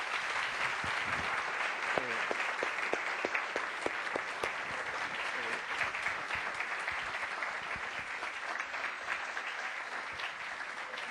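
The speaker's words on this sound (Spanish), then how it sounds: "Vamos a darle un aplauso a nuestros panelistas." Audience at a university public-sector panel applauds the panelists: steady dense clapping from a room full of people, with a few sharper individual claps standing out early, sustained evenly for the whole stretch without talk.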